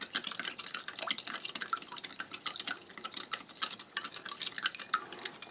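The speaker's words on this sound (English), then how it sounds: "Good stir, a lot of sugar." A spoon stirs sugar into water in a glass, giving a quick run of light, close clinks and scraping taps against the glass in an uneven rhythm, with no talking.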